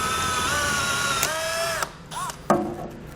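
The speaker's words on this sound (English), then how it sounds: "we're going to have a small rivet, and we're going to drill that out" A power drill drilling out a rivet on a 2020 Chevrolet Equinox front fascia, a close, loud whining motor that shifts pitch as it bites, stops, then briefly revs again.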